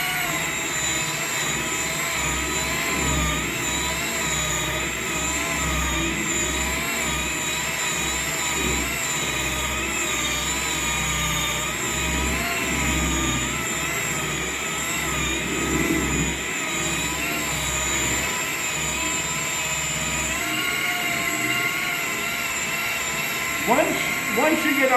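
A rotary buffer with a wool pad polishes car paint, giving a steady, continuous motor whine that holds for the whole stretch, with faint talk in the background.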